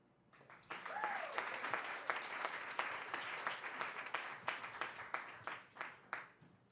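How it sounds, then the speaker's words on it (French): A hall audience at a talk on giving to the arts breaks into loud applause after a moment of quiet, and toward the end the clapping turns into rhythmic unison beats. "Merci d'être généreux en applaudissements."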